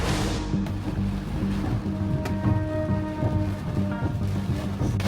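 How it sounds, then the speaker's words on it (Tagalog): Heavy rain pours down in a sudden storm during an outing near a truck, forming a dense, continuous roar with low rumbling underneath. "Umuulan na, oh."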